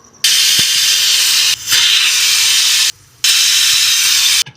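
A pressure cooker of Aloo-Methi Rajamudi rice bath releases steam in loud, steady hissing bursts, broken by two short pauses and ending abruptly, with no voices.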